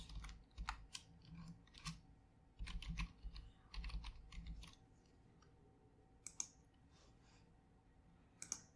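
Quick, soft keystrokes on a computer keyboard as an email address is entered into an AWS sign-up form. Bursts of close, light tapping thin out to a few isolated clicks.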